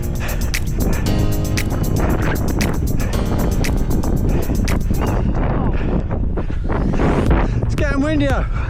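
Strong wind roars and buffets the microphone on an outdoor running track during an 800-metre rep, a loud continuous rush with faint voice sounds mixed in.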